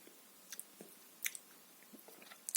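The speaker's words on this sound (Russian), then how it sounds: "возьму кусочек вот маленький какой, и жую" Someone chews a small piece of raw radish close to the microphone. Soft wet crunches and bites come at an irregular pace, quiet and without talk.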